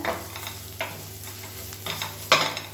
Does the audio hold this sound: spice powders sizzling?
yes